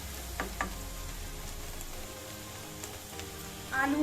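Crushed red chili frying in hot oil in a pan as it is stirred, a steady close sizzle with a few scraping strokes and a louder crackle near the end.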